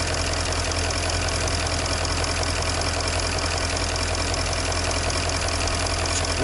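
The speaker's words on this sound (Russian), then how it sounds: "двигатель не так стучит, как он постукивал раньше" A car engine idles steadily with a constant rough drone and faint repetitive knocking running underneath, unchanging throughout with no voices; the engine is slightly warmed up.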